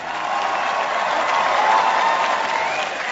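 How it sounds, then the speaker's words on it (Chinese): An audience at a combat fight event applauds a fighter being introduced, steady dense clapping with faint crowd murmur throughout, loud and close. "我们掌声送给来自日本的小林亮太。"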